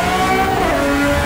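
A Pagani Zonda engine revs loudly and close by on snow, a steady rasping roar with a brief pitch swing partway through, heard with no voices.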